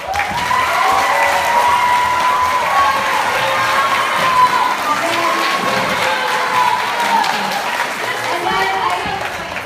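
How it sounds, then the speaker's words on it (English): A school theatre audience at an intermediate school production of a musical applauds steadily and loudly, with cheering and children's shouts mixed into a dense, sustained crowd roar throughout. "I just have to give them a huge round of applause."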